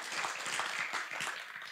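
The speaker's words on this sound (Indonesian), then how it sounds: "Yang percaya berikan tepuk tangan dulu buat Allah kita." A church congregation claps together during an Easter sermon. Dense, steady applause fills the room from start to finish at moderate loudness, with no other sound standing out.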